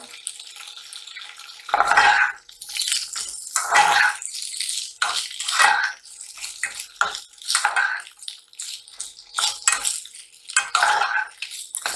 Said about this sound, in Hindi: अब हम इसको थोड़ा फ्राई करते हैं कि आलू हमारे गोल्डन ब्राउन हो जाए